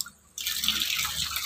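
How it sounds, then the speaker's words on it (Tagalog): Water poured out in a sudden splashing rush during household cleaning with soap, starting after a brief quiet moment and continuing loud and close to the end. "Last na lang to, buhos."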